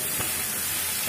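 Chopped spiny gourd frying in hot oil in a kadai, a steady close sizzle with a couple of soft stirring scrapes, no voices.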